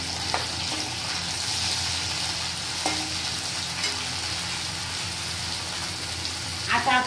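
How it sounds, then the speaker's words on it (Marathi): Tomatoes dropped into a pan of cooking jowar (sorghum), giving a steady close sizzle and frying hiss with occasional stirring scrapes of a spoon against the pan throughout. "आता आपण याच्यात टमाटर टाकू।"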